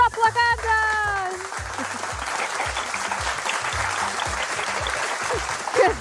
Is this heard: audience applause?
yes